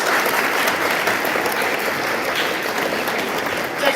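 A room full of delegates at a boys' nation oath-of-office ceremony claps steadily and loudly, a dense, even wash of applause that holds for the whole stretch with no break.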